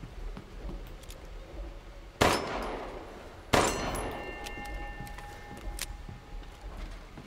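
Bells ring in the horror game Resident Evil Village, with two loud metallic clangs several seconds apart, each leaving a long ringing decay over a quiet background.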